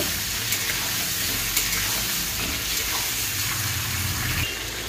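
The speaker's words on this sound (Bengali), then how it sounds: "চিকেনটা একটু হালকা করে ভেজে নেব।" Steady, dense sizzling of washed chicken lightly frying in a hot pan, with faint scraping stirs now and then and no talking.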